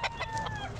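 Chicken at the Calumpit pet market clucks in a few short, close, fairly loud bursts over a constant market din.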